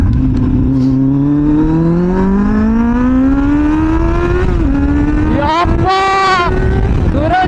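A Kawasaki Z800 inline-four motorcycle in first gear roars close and loud, its engine pitch climbing steadily, dipping briefly, then rising again into a high wail.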